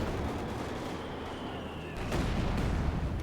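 Heavy mortar fire in the Company of Heroes 2 video game, a faint, muffled barrage of distant thumps and rumbling impacts beneath steady battlefield noise, swelling briefly near the end.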